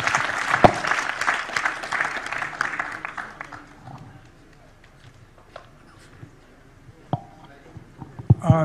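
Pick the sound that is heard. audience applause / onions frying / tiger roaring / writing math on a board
audience applause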